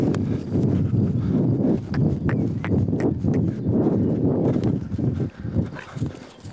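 Horse hooves clip-clop steadily through a dense, continuous run of close thuds during groundwork with horses on foot, with no voices over the steps.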